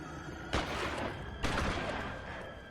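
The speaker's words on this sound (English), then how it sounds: "Where's he shooting me from?" Gunfire aimed at the player in L.A. Noire, two sharp shots about a second apart, each trailing off into a reverberant decay over a low background hum.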